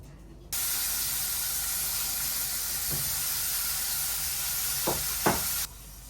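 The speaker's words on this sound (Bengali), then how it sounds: "করলাগুনি ভেজে নেই" Bitter gourd hits hot oil with an abrupt, loud, steady hiss that holds for about five seconds, with a couple of soft knocks, then cuts off sharply.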